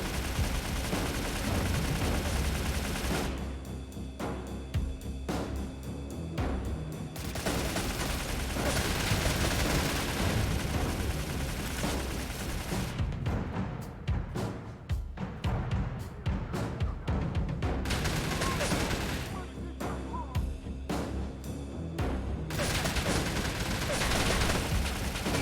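Rapid bursts of automatic gunfire in the shooter game StalCraft, including a ramping RPD machine gun, loud and close with sustained volleys broken by short pauses and clustered shots.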